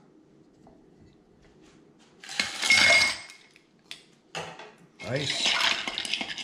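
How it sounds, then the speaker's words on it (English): Ice clattering and clinking in a glass in two loud bursts of stirring with a bar spoon for a cocktail, separated by a brief spoken word and a short pause. "I'm going to stir it probably 20 seconds or so."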